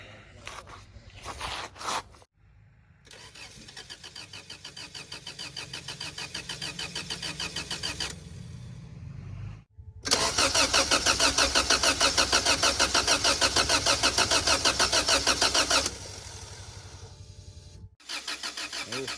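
An AWD car sitting in snow during tuning starts up and revs hard: stuttering cranking gives way to a loud, buzzing engine that climbs, holds high revs, drops and surges again, up close and without talk.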